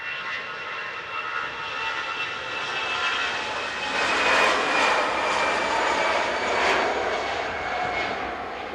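Jet engines of an Etihad airliner at Manchester Airport whine and roar steadily at mid-distance, swelling louder in the middle, with no talk.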